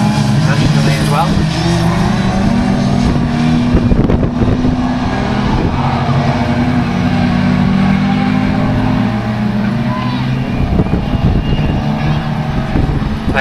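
Class 4 autograss race cars roaring into the first corner on a dirt track, a loud, continuous droning engine noise with wind buffeting, heard under a commentator speaking throughout.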